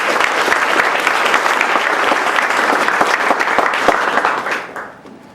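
An audience at the 2012 Birmingham Startup Summit applauds a speaker being welcomed, loud sustained clapping from a large crowd that fades out toward the end.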